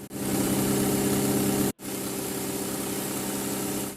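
A Benelli Sei motorcycle engine runs at a steady, even idle, close and moderately loud, with a single brief cut-out partway through before the hum resumes.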